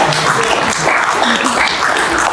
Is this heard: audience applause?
yes